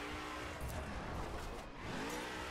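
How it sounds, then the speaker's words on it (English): A car engine in The Crew racing game drones steadily at high revs with tire noise, a continuous synthetic roar with a brief dip midway. "the engine sounds aren't actually that good in this game"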